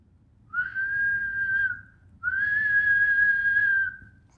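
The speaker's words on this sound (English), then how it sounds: "suddenly out came a real whistle" Someone whistles two long, steady notes, the first about a second long and the second longer, clear and close against near silence.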